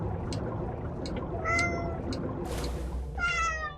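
Hungry pet cats meowing in a room, several drawn-out meows rising over a muffled background of game sounds, the last one loud and close.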